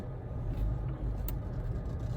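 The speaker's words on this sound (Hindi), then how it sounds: "सब ट्रैफिक ही ट्रैफिक है" Road traffic jam with taxis, a steady low rumble of idling and slow-moving vehicles nearby, continuous and fairly loud with no distinct horn or engine event standing out, and no talking.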